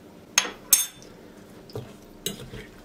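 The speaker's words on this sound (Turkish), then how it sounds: "Karıştırıp birbirine yediriyorum." A spoon stirs a mixture with melted butter and lemon juice in a bowl, giving four light metallic clinks spread across a quiet background.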